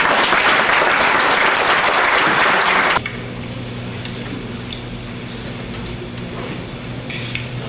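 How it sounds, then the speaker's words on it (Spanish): An audience at a formal talk on Convention 169 and consultation regulations gives a loud burst of applause for a speaker, which cuts off abruptly after about three seconds, leaving a quiet room hum. "y pedimos para él un aplauso"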